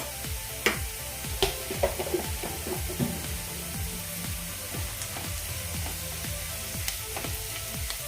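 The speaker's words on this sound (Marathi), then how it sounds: "एक दोन मिनट परतून घेऊयात" Chopped onion and a spoonful of turmeric sautéing in a pan for safflower-leaf vegetable with mung dal, a steady close sizzle and fry with scattered stirring clicks and scrapes, no talk.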